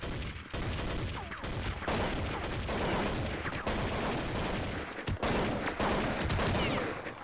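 Rapid bursts of gunfire from the video game Counter-Strike 1.6 crackle loudly and densely, with overlapping shots and brief pauses between volleys during a bomb round.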